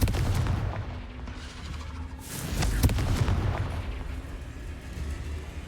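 Confringo fire spell blast in the Hogwarts Legacy video game: a dense stretch of booming explosive bursts with rumbling low end, one stronger crack near the middle, continuous and loud with no talk.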